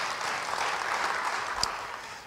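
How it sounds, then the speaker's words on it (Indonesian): Scattered applause from a church congregation during an Indonesian sermon, fairly steady and moderately loud across the moment, with a single sharp clap standing out near the end. "Beri tepuk tangan bagi dia."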